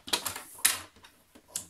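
Paper scraps being cut, a few quick crisp snips and rustles close by, irregular and brief, with no voices.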